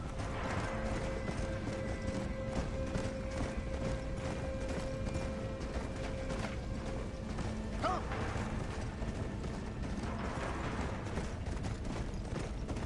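Steady clip-clop of horse hooves in the video game Red Dead Redemption: Undead Nightmare, continuous and fairly loud, with mechanical clanking and a brief whinny-like sound mixed in.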